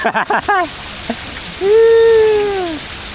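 Steady rain falls with a soft, constant hiss in the background, while voices speak briefly over it, one rising into a long drawn-out tone near the end.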